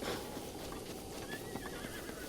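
Horse in Zelda: Breath of the Wild neighing while hooves clip-clop, faint and a little distant, with game background sound and no talk.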